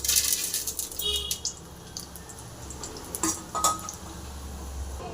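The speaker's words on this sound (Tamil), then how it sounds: "கடுகு பொறிஞ்சிச்சுங்க" Mustard seeds pop and crackle in hot oil over a steady close sizzle, with scattered sharp pops throughout.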